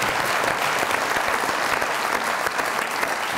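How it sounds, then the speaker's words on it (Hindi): A studio audience at a Pakistani comedy talk show claps in a loud, continuous round of applause lasting a few seconds. "बहुत सारा तालियां इनके लिए।"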